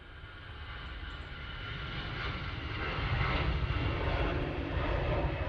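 An airliner at Manchester Airport on its takeoff roll down the runway, its engines a broad, steady roar that swells gradually louder across the clip, heard alone with no talk.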